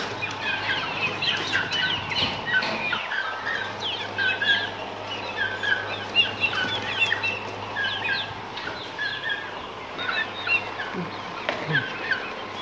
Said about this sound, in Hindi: ये देखो माशाल्लाह हमारे वही मुर्गे हैं